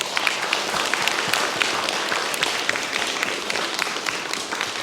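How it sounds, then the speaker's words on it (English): Sustained applause from an audience at a panel talk, dense clapping with sharper individual claps poking out, continuous and fairly close for about five seconds. "We do a round of applause"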